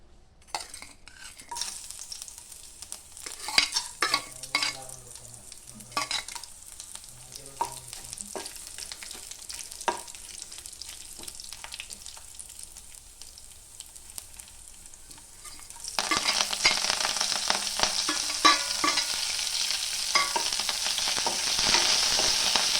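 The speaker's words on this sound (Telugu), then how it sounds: "ప్యాన్లో కొంచెం ఆయిల్ వేసి వీటన్నిటిని లైట్గా ఫ్రై చేసుకోవాలి" Garlic, coriander, curry leaves and a dried chili fry lightly in a pan of oil. Close stirring scrapes and clinks come over a soft sizzle, then the sizzle rises to a louder, steady hiss near the end.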